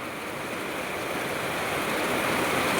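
Heavy monsoon rain pours down in a rural farming area, a dense, even roar that swells slightly louder toward the end. No one speaks.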